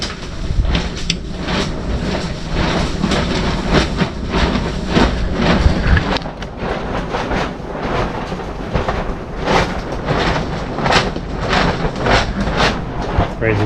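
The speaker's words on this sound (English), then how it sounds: "Crazy wind." Strong gusting wind buffets a boatyard workspace, a continuous loud rush with low rumbling surges and swells throughout, no talk heard.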